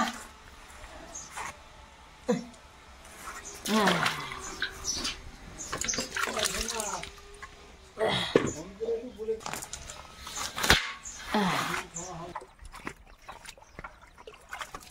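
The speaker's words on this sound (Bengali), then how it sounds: "ধো ভালো করে ধো, ধুয়ে উঠে যাও" Washing in a pond after a fishing catch in the Sundarbans, with irregular splashes, trickles and sloshing water close by, loud bursts between quieter stretches, while people talk throughout.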